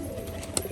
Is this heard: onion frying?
no